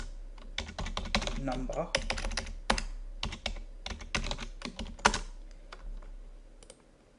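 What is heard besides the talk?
typing on a computer keyboard into a spreadsheet cell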